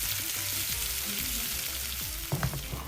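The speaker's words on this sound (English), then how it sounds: "Then you place your sliced breadfruit in the pan with the oil and allow them to get nice and golden brown" Sliced breadfruit fries in oil in a pan, a close, steady hiss and crackle of sizzling with a brief louder spatter near the end.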